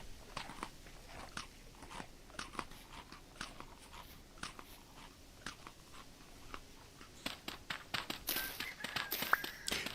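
A character eats a snack in a survival video game, giving repeated sharp crunchy bites at an irregular rhythm that grow denser and louder toward the end, with faint animal calls in the background.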